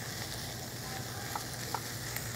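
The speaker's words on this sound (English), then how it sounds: "Then we're going to add our squash in here. We're going to saute this as well." Squash and zucchini sauté in a pot with a soft, steady sizzle and a few faint clicks of stirring, quiet and unbroken, with no voices.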